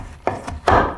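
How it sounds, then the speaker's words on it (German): A knife chops frozen food into small cubes on a cutting board, giving two sharp, close cuts a fraction of a second apart. "Und die schneiden wir jetzt in Würfel, also in kleine Dinge da."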